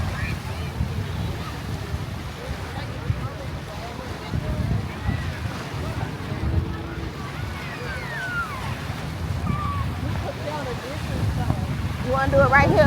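Wind blowing across a sandy beach by the ocean, a steady low buffeting rumble against the microphone with distant surf, voices talking throughout.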